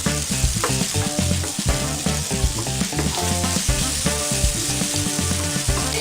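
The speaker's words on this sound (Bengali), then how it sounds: "এখন আমি সুন্দর করে একটু ভেজে ফেলব।" Chopped onion, garlic and ginger fry in hot oil, giving a loud, steady sizzle with stirring scrapes and clatters throughout.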